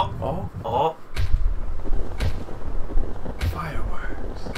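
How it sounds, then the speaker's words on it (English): Fireworks go off over a town celebrating at midnight in the Majora's Mask video game: three loud, booming bursts about a second apart, following a brief voice at the start. "Fireworks."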